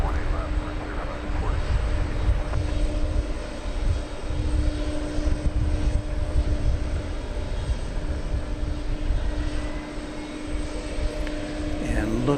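An airplane takes off at night at DFW Airport on the west side, a steady distant engine roar and rumble that holds throughout, with talk at times over it.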